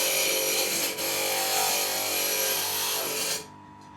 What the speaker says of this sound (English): I'm going to use the grinder here just to go around the edges